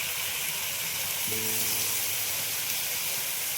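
A soft, steady sizzle and hiss comes from capsicum and tomato sautéing in a pan for green pav bhaji. Gentle stirring sounds appear partway through, and the whole thing stays fairly quiet and close.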